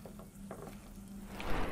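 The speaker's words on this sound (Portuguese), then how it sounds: "E a panela ainda tá chiando ali." A steady hiss rises toward the end over faint kitchen clatter, a pressure cooker cooking rice letting off steam softly in the background.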